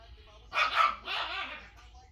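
Two household dogs, a young one and an old one, give two quick barks indoors at moderate distance, with no talk.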